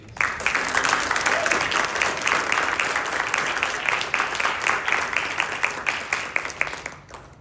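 An indoor audience at an award nomination claps steadily for several seconds, a dense, even wash of applause with no speech over it.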